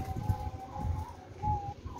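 Doves in a small backyard dove setup, coo-like low calls rising in soft pulses at close range against a quiet background, with no talking.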